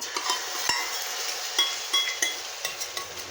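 Batter frying in oil in a kadai makes a continuous bright sizzle, with a few soft clinks and stirring taps of a utensil against the pan, close and without talk.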